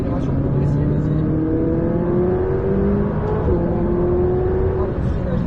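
McLaren 600LT accelerating progressively on the Le Luc race track, a steady engine whine rising in pitch through gears under the roar of the car, heard from onboard.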